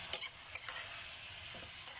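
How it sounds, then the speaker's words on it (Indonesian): Chicken and cashew stir-fry being stirred in a pan after oyster sauce and seasoning go in, with soft spatula scrapes and clacks over a steady, quiet sizzle. "kita aduk dulu."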